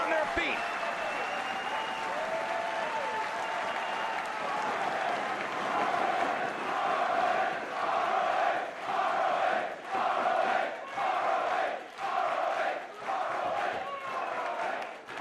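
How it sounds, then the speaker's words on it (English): A wrestling crowd at an ROH Center Stage match between Roderick Strong and Davey Richards roars and cheers continuously, with rhythmic surges of clapping and chanting building over time, loud and dense throughout. "This crowd is on their feet."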